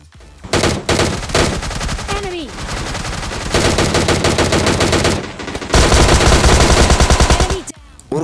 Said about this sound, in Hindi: इतनी सारी गोली की आवाज़ सुन के आप लोग भी सोच रहे हो भाई ये क्या आ गया।